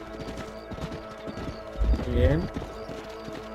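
Horse hooves clip-clopping steadily while riding in Red Dead Redemption, with a whinny midway and a voice speaking briefly over the rhythmic hoofbeats.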